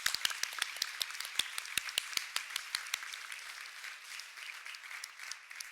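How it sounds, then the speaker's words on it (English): An audience applauds a gold sponsor at a family medicine research breakfast, a dense patter of clapping with some crisp nearby claps early on, thinning and fading softer toward the end. "A big round of applause for Shanex."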